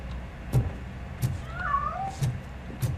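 A single brief, fairly faint meow from a cat in the video game RoboCop: Rogue City, heard midway between soft footsteps or thuds in a quiet game scene.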